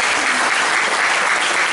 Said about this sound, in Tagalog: Isang malakas sa palakpak.